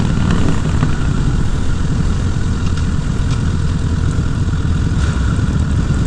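A Honda CBR 1000 Repsol sport motorcycle engine drones steadily and loudly while being ridden, a dense, continuous rumble mixed with rushing wind noise and no pauses or talk.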